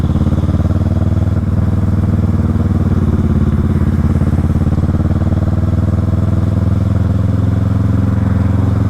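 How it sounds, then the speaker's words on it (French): A motorcycle rides through traffic with its engine running at a steady, loud, close drone and a low rhythmic thrum, continuous and without pause. "Moi je suis en moto donc je peux faire des remontées de fil"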